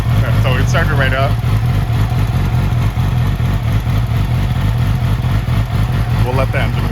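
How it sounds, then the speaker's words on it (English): A 2008 Yamaha R6 motorcycle idling while it warms up, a constant close, loud engine burble with a steady low pulse throughout; someone talks briefly over it at the start and near the end. "We'll let the engine warm up."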